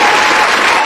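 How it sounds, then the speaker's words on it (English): A crowd applauds for Blade's birthday, a dense steady wash of clapping that holds loud and even for about a second. "let me get the round of applause going for Blade's birthday, y'all"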